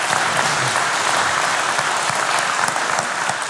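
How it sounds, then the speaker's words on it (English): Loud, dense audience applause after a conference talk on automated visual UI testing, continuous clapping from a full room with no voices over it. "A little applause."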